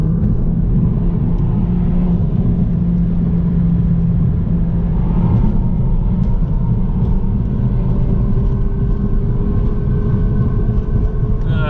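A BMW 114i accelerating hard, a loud continuous engine drone with deep rumble and a rising tone as it pulls, heard from inside the car.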